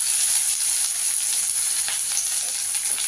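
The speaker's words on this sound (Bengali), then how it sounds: "পেঁয়াজটাকে একটু লাল করে ভেজে নিতে হবে।" Chopped onions frying in hot oil give off a steady, dense sizzle with a bright high hiss, close and continuous without pause, faint stirring ticks scattered through it.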